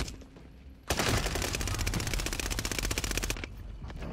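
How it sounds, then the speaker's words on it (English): Rapid automatic gunfire in a shooter video game, a dense burst of sharp closely spaced shots lasting about two and a half seconds, loud and near, preceded and followed by a quieter background. "I was shooting at him too."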